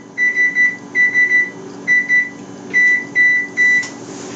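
Oven control panel beeps as the temperature is lowered, three short bursts of electronic tones in quick clusters, repeated several times, clear and close over a quiet kitchen.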